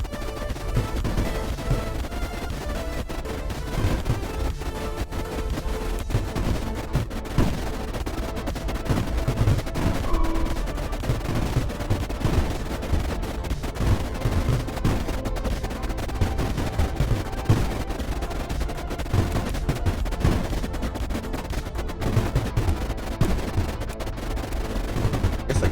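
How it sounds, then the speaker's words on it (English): Missile strikes in the video game Creeper World IXE land in a dense, continuous barrage of crackling blasts and thumps, a steady loud wall of rapid impacts with no talk over it. "Doing a pinpoint missile breach."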